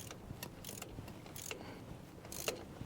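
A hand ratchet snugs down the bolts on a one-inch Quadrajet carburetor spacer, giving quiet bursts of fast clicks in short, irregular strokes close to the mic with no talking.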